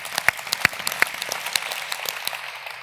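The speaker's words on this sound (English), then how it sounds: "Big round of applause for Matt Findley" Audience at a tech talk applauding a guest, a scattered patter of hand claps with a few louder claps standing out early, thinning toward the end.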